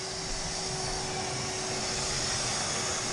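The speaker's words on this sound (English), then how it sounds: "we vacuum out the debris in the gutters" A gutter vacuum sucking debris out of house roof gutters, a steady loud whooshing roar with a constant tonal whine and no breaks.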